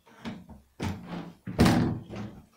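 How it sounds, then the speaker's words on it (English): A door is handled in a series of knocks and thuds, several separate bumps with one louder bang near the middle, close and fairly quiet with short gaps between. "Oh no, someone's opened the door."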